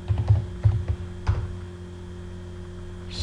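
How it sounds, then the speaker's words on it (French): Quick bursts of keystrokes rattle on a computer keyboard for about a second and a half. A quiet electrical hum carries on alone afterward. "je tape le nom du projet"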